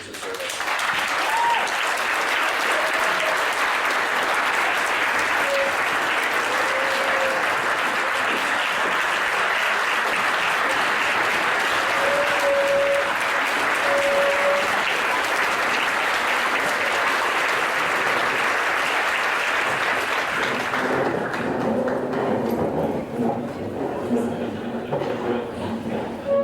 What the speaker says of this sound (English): Let's all give Kimberly Weast a round of applause for her years of service.